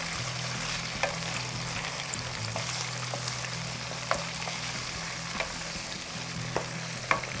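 Chicken fries in a pan cooked in masala with a steady, continuous sizzle, and now and then a spoon scrapes or taps during stirring. No voices are present.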